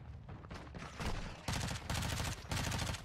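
Rapid gunfire rattles through a Modern Warfare 2 match, with loud, dense bursts of shots that intensify into sustained volleys, close and harsh, with no pauses between them.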